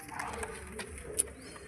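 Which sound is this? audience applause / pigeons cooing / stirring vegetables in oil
pigeons cooing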